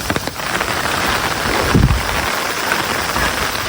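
Steady rain pours across a village in Yufuin, Japan, a dense continuous hiss of drops striking surfaces close by, with a brief heavier low rumble partway through.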